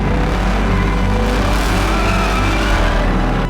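A Chevy Camaro's 6.2 liter V8, rated at 455 horsepower and 455 pound-feet of torque, revs loudly and steadily up close, a dense unbroken engine roar with no voices.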